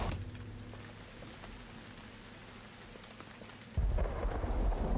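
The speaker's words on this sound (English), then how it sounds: "It's raining!" Rain falls steadily in the video game Uru: Ages Beyond Myst, a constant hiss with low rumbling thunder beneath, until a sudden louder burst of downpour and thunder swells near the end; no voices.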